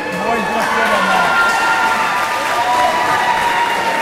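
Home crowd at a high school wrestling meet applauding a victory, a sustained wash of clapping and cheering throughout, with a voice briefly audible over it near the start.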